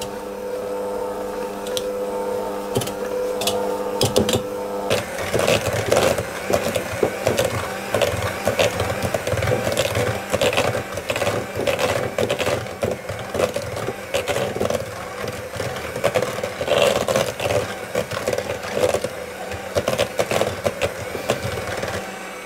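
An electric mixer beats speculaas spiced cookie dough, giving a loud, continuous whirring drone with clattering and knocking against the bowl that runs steadily through the whole stretch.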